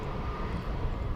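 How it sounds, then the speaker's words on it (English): A UPS Boeing 767 arriving from Miami approaches to land at DFW airport at night, heard as a steady, dense low jet-engine roar filling the short stretch without breaks. "a long distance shot of a UPS 767 coming in from Miami over there on the east side of the airport"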